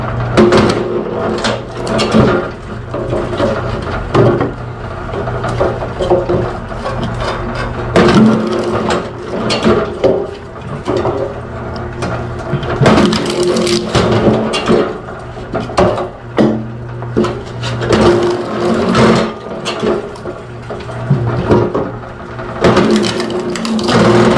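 A motorized firewood splitter with an undersized motor runs outdoors, grinding and labouring in a continuous mechanical drone, with cracking and crunching of wood as logs split in repeated cycles close by.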